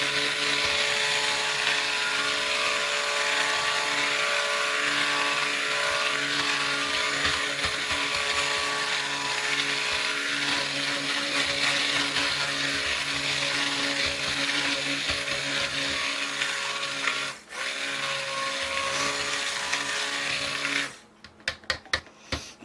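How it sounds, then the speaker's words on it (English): A stick blender mixing goat's milk soap gives a steady, loud motor whir that runs continuously for about twenty seconds with a brief dip near the end, then cuts out into a few clicks. "You don't want to run the blender constantly either, because that can overheat the motor"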